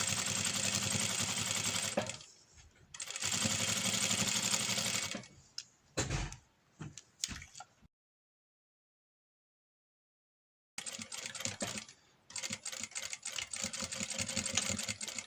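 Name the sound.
sewing machine stitching a seam on IKEA towels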